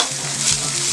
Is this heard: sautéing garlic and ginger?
yes